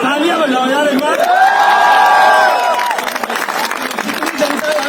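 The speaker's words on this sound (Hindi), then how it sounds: "तालियां बजाओ यार एक बार।" A crowd claps and cheers with a whoop rising over the applause, loud and close, while voices carry through the noise.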